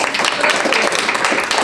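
An audience claps together in a short, steady burst of applause lasting under two seconds, fairly close and loud, with no voices over it.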